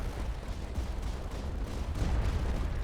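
Experimental cannon firing in the video game Tower Dominion, a dense barrage of low booming shots in quick irregular succession, continuous and fairly loud.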